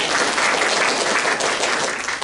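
Church congregation applauding during a sermon, a dense, steady wash of many hands clapping that fills the space at a fairly loud level throughout, with no voices standing out.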